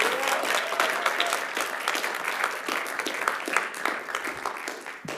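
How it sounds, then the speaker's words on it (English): Sustained audience applause fills a small theatre for Comandante Manuela, dense clapping holding steady and close for several seconds with faint voices mixed in. "Another round of applause for Comandante Manuela."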